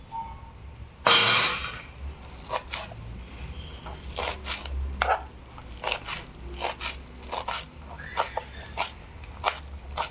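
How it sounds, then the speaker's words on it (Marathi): Fresh coriander and mint are chopped on a board for chicken biryani, producing irregular crisp knife taps and crunchy cuts at close range, with a louder rustle near the start and no speech. "कोथिंबीर आणि पुदिना चिरून टाकायचा आपल्याला."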